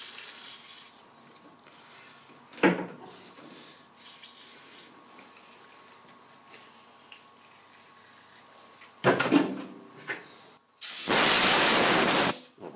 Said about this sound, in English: So we'll clean it out with a bit of primer.